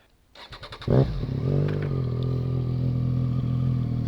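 A Triumph Trident 660 motorcycle engine, still cold, cranks and catches with a quick burst, then settles into a steady, low, rumbling warm-up idle that continues without talk.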